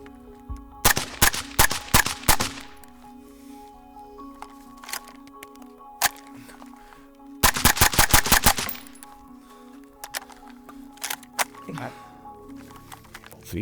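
An MP7 firearm fires several rapid bursts, close and loud, each a dense string of sharp cracks, with single shots scattered between the bursts and a steady hum underneath.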